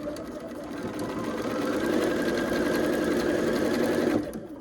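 A sewing machine stitches quilt pieces in a steady, loud mechanical whir that runs for several seconds and then stops.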